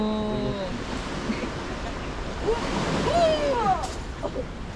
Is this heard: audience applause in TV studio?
no